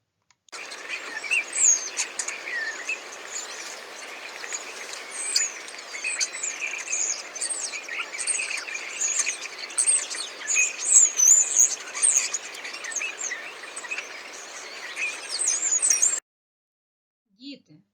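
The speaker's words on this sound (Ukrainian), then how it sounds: "Це ластівки. Вони теж гарно співають." Swallows singing in spring, a dense, continuous chorus of high twittering and chirping calls that runs steadily at moderate loudness, with insect-like buzzing mixed in, then stops abruptly near the end.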